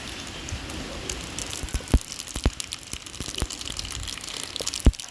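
Mustard seeds spluttering in hot oil in a small tempering ladle make a busy crackle with sharp scattered pops, a few standing out louder, all close by with no talk.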